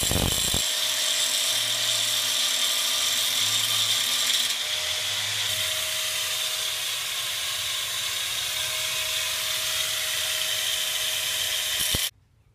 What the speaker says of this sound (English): I'm going to be cutting all this out with the angle grinder